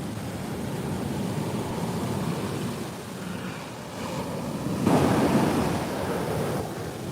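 Ocean surf rolls in at a beach in Mexico, a continuous wash of breaking waves and rushing water with wind buffeting the microphone and a louder surge partway through.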